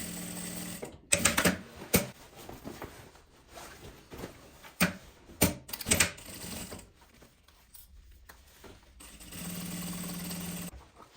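Sewing machine stitching with a Teflon presser foot, running in short bursts of rapid mechanical chatter separated by pauses, then a steadier stretch at the end; close and moderately loud.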